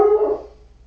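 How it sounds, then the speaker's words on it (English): A dog gives a single short bark indoors, fairly close, fading quickly into quiet. "it's just Coco barking."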